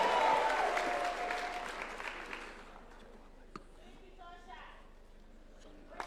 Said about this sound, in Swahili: Wapi makofi ya Aaron Cheruiyot,